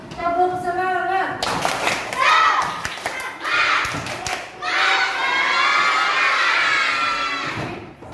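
A group of children at a school basketball dribbling activity shout loudly together and perform a patterned spirit clap, bursts of high voices and sharp claps alternating, ending in a long sustained cheer.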